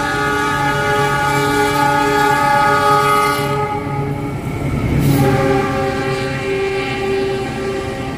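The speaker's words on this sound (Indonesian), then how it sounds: "Kereta api Lodaya melintas langsung stasiun Nagrek." The Lodaya passenger train rumbles past close by through Nagrek station without stopping, its horn blaring in long sustained tones over the steady roll and clatter of the wagons.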